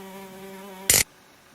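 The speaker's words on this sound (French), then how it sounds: "Le problème, c'est que les mouches ne se gênent pas pour s'inviter." Flies buzz in a steady, close, humming drone, cut off by a short loud crackling burst, after which only faint room noise remains.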